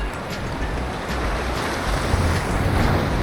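Large ocean waves crash steadily against shore rocks on a Costa Rica coastline, a loud, continuous roar of surf with wind buffeting the microphone and no voices.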